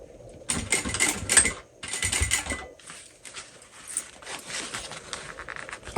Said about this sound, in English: So I'm going to top stitch that